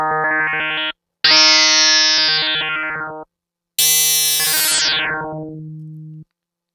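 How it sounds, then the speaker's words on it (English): A sine wave tone from a Reason Thor synthesizer with FM turned to zero plays in three sustained notes separated by short gaps, the last one sweeping down and fading. "So that's just a sine wave."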